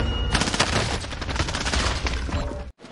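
Sustained gunfire in a multiplayer shooter video game: rapid, dense bursts of shots that keep rolling for nearly three seconds before cutting off abruptly, loud and close.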